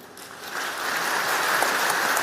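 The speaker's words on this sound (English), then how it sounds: "let's give a round of big applause for them" An audience at the opening ceremony of the CYBERSEC 2023 Taiwan cybersecurity conference applauds, a dense, steady wash of many hands that swells slightly and holds throughout, with no voices on top.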